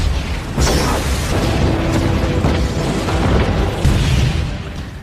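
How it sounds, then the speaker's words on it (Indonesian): An alien communication station on a mountain blows up in a film sequence, a loud, sustained blast with a sharp burst near the start followed by rumbling debris and further pops throughout, with no voices. "Stasiun komunikasi meledak dan sinyal gagal terkirim."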